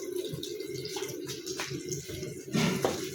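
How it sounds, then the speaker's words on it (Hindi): Tap water runs steadily while spoons are washed at a home sink, a continuous close splashing rush with brief clinks and a louder surge near the end. "कौन बोला आपको चम्मच धोने के लिए? बंद करो पानी।"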